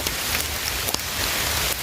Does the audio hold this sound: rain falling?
yes